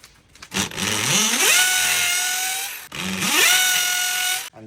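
A power drill fitted with a depth-stop accessory spins up twice in close succession, each burst a rising whine that settles into a steady loud drilling tone, then cuts off sharply.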